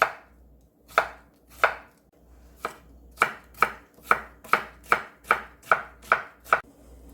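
A knife cuts a cucumber into thin strips on a cutting board, about a dozen crisp thuds that start spaced out and then speed into a steady rhythm.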